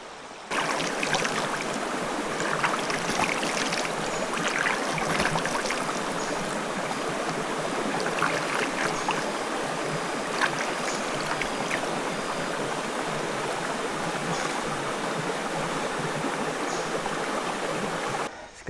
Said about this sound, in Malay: Ini sungainya. Air pun tak deras, cetek saja.